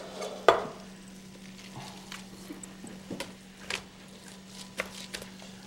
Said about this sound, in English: Crisp potatoes, the mushrooms are sauteing nicely.